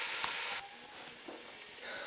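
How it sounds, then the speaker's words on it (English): Meatballs sizzle in a pot of hot oil for tortilla soup, a steady close hiss of frying that quiets slightly partway through and swells again at the end, with faint stirring bumps. "And while they're sizzling in there"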